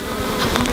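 Honey bees at a hive in Hatta, Dubai buzz continuously, a dense, close insect drone that holds steady and fairly loud, with no voices.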